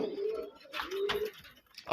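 A female Raj Golla pigeon coos close by, a couple of soft low hooting calls with brief rustling between them, no talking.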